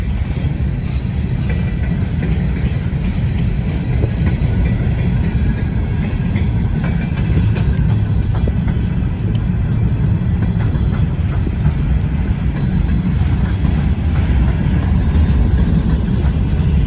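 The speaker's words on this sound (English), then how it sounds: "CSX hopper, that big one just went by, was just freshly painted." A CSX freight train with hopper cars rolls steadily past nearby, a continuous loud rumble with rail clatter and wheel noise throughout.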